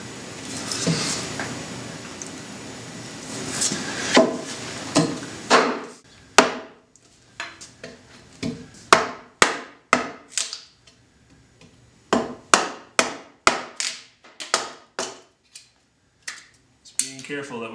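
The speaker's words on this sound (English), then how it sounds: "We can now take the timber framing chisel and define the rest of our edges." A timber framing chisel is driven into a log with a mallet, giving a series of sharp, woody knocks in uneven bursts. Scraping and handling noise comes first, then about a dozen close, distinct strikes follow with short pauses between them.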